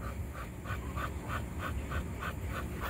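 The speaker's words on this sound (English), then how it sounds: "He's panting quite a lot because we've had him out here playing and exercising and meeting other dogs." A dog pants heavily after playing and exercising outdoors, a quick regular rhythm of breathy huffs close to the microphone, about three per second, over faint background noise.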